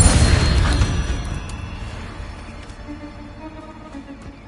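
A fire spell bursts in Hogwarts Legacy, opening with a loud whooshing blast that slowly fades into a low rumbling tail over several seconds.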